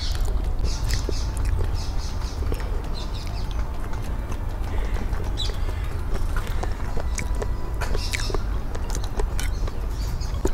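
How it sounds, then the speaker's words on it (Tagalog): Many birds call and chirp outdoors at an open-air spot where food is being eaten, with scattered bright chirps over a steady low outdoor rumble throughout. "Ang dami ibon."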